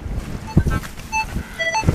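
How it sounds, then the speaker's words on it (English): Wind gusting outdoors in an open field during metal detecting, a steady low rumble buffeting the microphone with faint high beeping tones from a detector over it. "Really windy today, annoyingly."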